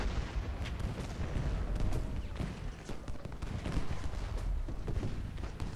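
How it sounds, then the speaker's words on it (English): Continuous rumbling barrage of cannon and artillery fire in the Civil War strategy game Ultimate General: Gettysburg, dense overlapping booms and crackle holding at steady loudness throughout, with no clear pauses. "Starting to pull down artillery fire."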